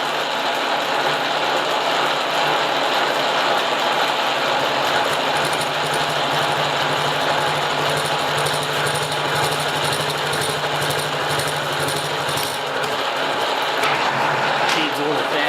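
Steady, loud grinding whir of a milling machine feeding a cut on tracing fingers for a wood lathe, the workpiece held in a vise angled about 15 degrees, running continuously with a dense mechanical chatter.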